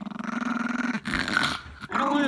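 A puppy growls steadily for about a second in low rumbling pulses, then gives a few rougher growling bursts broken by short gaps, close and fairly loud.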